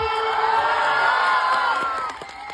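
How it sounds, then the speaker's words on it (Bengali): A crowd of villagers cheers and claps loudly for the winning Gokulpur village team, a sustained roar of voices that eases off near the end. "তাই জন্য একটা হাততালি হয়ে যাক"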